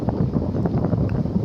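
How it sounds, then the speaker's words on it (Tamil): Steady outdoor wind buffeting a microphone, a continuous low rushing roar with no other clear sounds. "அது காற்று"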